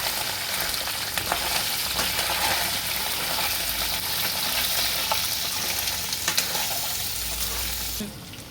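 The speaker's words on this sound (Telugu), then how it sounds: "డ్రై అయిన చికెను ఆయిల్ బాయిల్ అయిన తర్వాత అందులో వేసుకొని" Dried chicken pieces for a homemade pickle fry in boiling oil, giving a loud, close, constant bubbling sizzle with occasional scraping stirs, and the hiss drops off abruptly near the end; nobody speaks.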